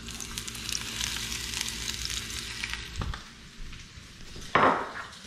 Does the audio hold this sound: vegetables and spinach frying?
yes